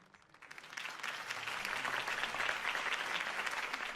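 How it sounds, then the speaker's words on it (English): Applause from a crowd in a video game swells after a quiet start and holds steady, a dense wash of clapping with a faint murmur beneath. "could have heard that applause"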